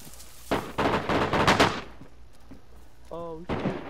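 Several bursts of gunfire from the video game DayZ, a cluster of loud cracking shots early on and another near the end, with a brief tonal in-game sound between them.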